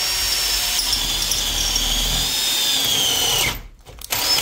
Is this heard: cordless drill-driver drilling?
yes